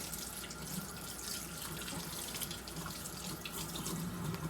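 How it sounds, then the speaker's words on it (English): Hands being washed under a steady running faucet while changing filter cartridges on an Aquatonic AQ 500 water ionizer; continuous close splashing water with no talking. "Okay, so wash your hands real good."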